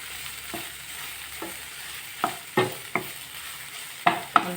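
Onions fry in a pan with a soft, steady sizzle, broken by a series of sharp spoon scrapes and clinks against the pan as they are stirred.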